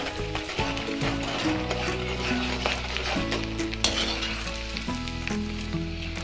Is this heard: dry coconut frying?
yes